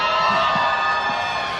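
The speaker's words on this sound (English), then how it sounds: "take a look at all this crowd cheering for them" A large crowd cheering at an esports tournament knockout stage, a loud sustained roar of voices with shouts and whoops, filling the arena and staying strong throughout.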